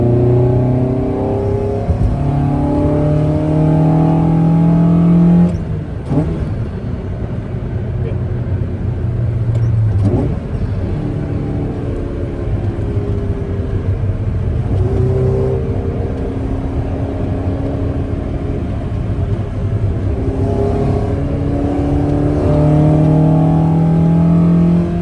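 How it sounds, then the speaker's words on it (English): A car with a BP engine swap and individual throttle bodies revs in repeated rising and falling growls, loud and close, while people talk over it. "You don't need to drive it fast, just hear the growl."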